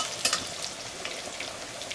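Fenugreek seeds and leaves frying in hot oil, a soft continuous sizzle with a few brief stirring scrapes, close and fairly quiet, no voices.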